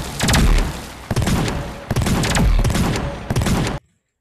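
Rapid bursts of shotgun fire in a video game, loud and close, in several clusters of repeated blasts across about four seconds before cutting to silence.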